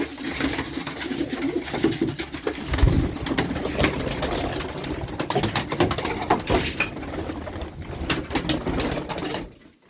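Pigeons cooing close by amid constant fluttering, shuffling and rustling noises, moderately loud and busy throughout.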